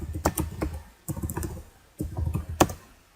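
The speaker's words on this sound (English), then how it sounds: "Just gonna quickly type it down here." Computer keyboard typing in quick bursts of clicky keystrokes, close and clear, with short pauses between runs and no talking.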